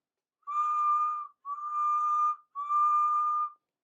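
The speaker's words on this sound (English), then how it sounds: "That sounds like a guard's whistle" Three long, steady railway guard's whistle blasts, shrill and clear, separated by short pauses against silence.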